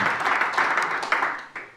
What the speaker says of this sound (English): Round of ovation from the Laugh Factory